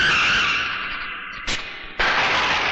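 A scooter skids to a stop with a long, loud tire screech that fades, breaks off with a sharp burst, then resumes as a harsh scraping squeal.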